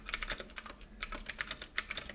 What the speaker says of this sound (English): Do you hear my new keyboard, by the way? It's super clicky.